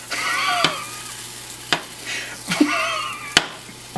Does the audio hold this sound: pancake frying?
yes